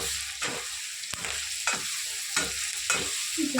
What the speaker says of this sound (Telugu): ఒక స్పూన్ అల్లం పేస్ట్ వేసుకొని ఆయిల్లోనే బాగా ఫ్రై చేసుకున్నాము